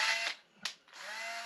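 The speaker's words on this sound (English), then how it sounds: "I'm going to use a small cordless drill." Small cordless drill drilling holes in a carburetor, a high whirring buzz that stops briefly, gives a short burst, then resumes steadily, fairly faint and close with no talking.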